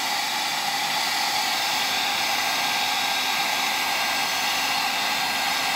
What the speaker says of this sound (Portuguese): secador de cabelo.